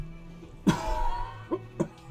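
A single harsh cough rings out close by, followed by two shorter, lighter coughs, in the video game Disco Elysium.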